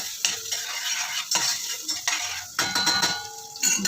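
Ingredients for chicken wing tinola are sautéed in a hot pan, a steady sizzle broken by repeated scraping and clinking of a metal spoon stirring against the pan, close up with no talking.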